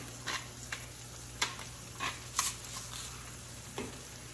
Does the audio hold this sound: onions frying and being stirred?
yes